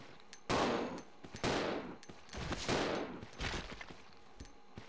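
Rapid bursts of machine-gun-style gunfire from the survival horror video game Resident Evil Zero, several loud rattling volleys in quick succession with short gaps between, no talk over them.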